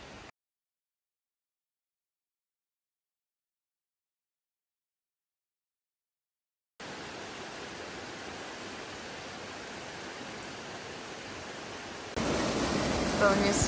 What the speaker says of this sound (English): this mini waterfall.